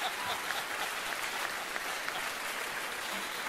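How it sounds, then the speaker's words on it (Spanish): Steady, dense applause from the audience at a talent contest grand final, a continuous wash of many hands clapping at even volume, slightly distant, with no voices standing out. "un aplauso para Raúl"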